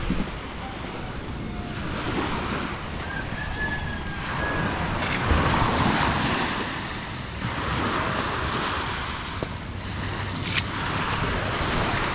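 Calm sea waves wash steadily along the shore after a rain shower, a broad continuous roar of surf with heavy wind buffeting the microphone.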